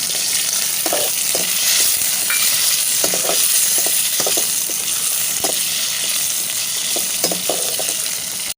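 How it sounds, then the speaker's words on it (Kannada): Green chillies sizzle and fry steadily in hot oil in a pan, with repeated short scraping strokes of a stirring spoon sounding over the constant hiss. "ಇವಾಗ ಇದನ್ನು ನಾವು ಚೆನ್ನಾಗಿ ಎಣ್ಣೆಯಲ್ಲಿ ಫ್ರೈ ಮಾಡುವ"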